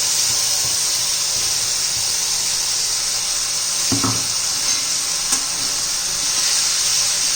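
Lentil and onion paste frying in oil for a coriander-onion chutney, giving a steady broadband sizzle and hiss throughout, with a couple of brief clatters of a utensil stirring the pan partway through.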